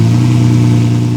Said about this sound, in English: As we warm up the car for the 0 to 60 miles per hour run